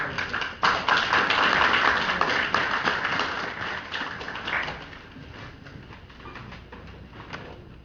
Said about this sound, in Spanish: Una corta aplauso.